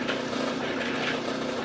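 A water-cooled drill bit bores into metal with steady downward pressure, giving a continuous loud whirring drone with a gritty, buzzing edge that holds evenly throughout, with no talk over it.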